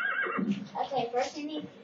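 A horse in the video game Barbie Horse Adventures gives a short, pitched neigh that wavers up and down for under two seconds, close and fairly quiet.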